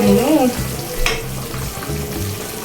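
Steady sizzling and bubbling from a pot of fish on low heat on the stove, with soft scraping sounds now and then and a brief clatter partway through.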